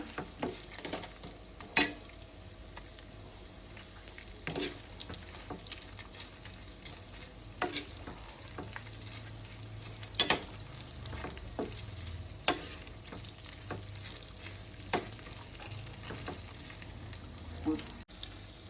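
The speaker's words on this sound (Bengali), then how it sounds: "কাজু আর কিশমিশটা আমার ভাজা ভাজা হয়ে গেছে।" Cashews and raisins frying quietly in a pan for Bengali sweet pulao, a soft low sizzle broken by scattered scraping taps of a spoon stirring.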